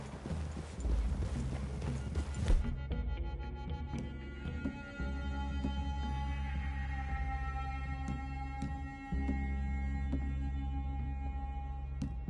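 Horse hooves clip-clop steadily in Red Dead Redemption 2, a near, continuous trotting rhythm over a low rumbling game soundscape, with no talk over it.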